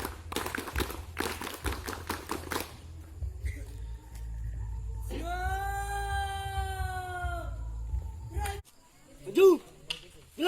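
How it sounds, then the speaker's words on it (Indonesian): A group performs the rhythmic Pramuka scout clap, a run of quick sharp claps in patterned bursts near the start, followed by voices and a sustained tonal sound. "Tepuk pramuka."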